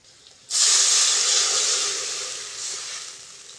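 Water is poured into a pan of fried potatoes and bursts into a sudden, loud hiss, which fades gradually over a few seconds.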